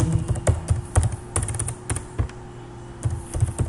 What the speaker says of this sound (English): We need to just type Juju deploy